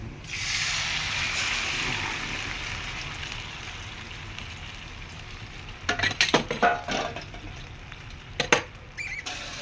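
Chicken frying in a pan gives off a steady sizzle and crackle, with sharp spattering pops bursting through near the end. No one speaks.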